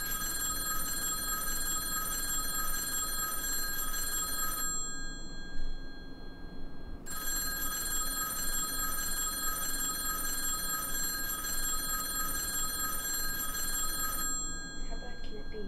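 A telephone rings with a steady electronic bell tone, loud and near, sounding for several seconds, pausing briefly, then ringing again for a long stretch before stopping.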